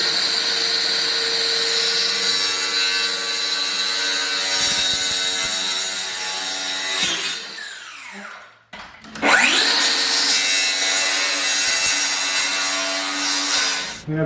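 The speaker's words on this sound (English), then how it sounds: "now I have a mark to use my skill saw on" A handheld circular skill saw rips through a thick plywood sheet marked with a snapped chalk line, its high whine holding loud and steady before briefly dipping and then spinning back up to finish the cut.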